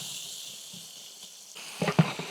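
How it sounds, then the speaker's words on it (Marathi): Four kilos of chopped onion sautéing in a large pan, a steady broad sizzle that swells near the end with a few clattering stirs, close and fairly loud. "कांदा पण व्यवस्थित परतून घेऊ"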